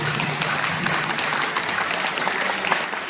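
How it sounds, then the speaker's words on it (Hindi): An audience at a yoga and health camp in a hall applauds loudly, a dense, sustained wash of clapping from many hands that stays even from start to finish. "एक बार जोरदार तालियां।"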